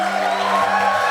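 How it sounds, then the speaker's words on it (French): Church congregation shouting and cheering in worship, a dense, loud crowd roar with whoops and raised voices blending over a sustained tonal hum, continuous for about a second. "Somebody shout to the Lord."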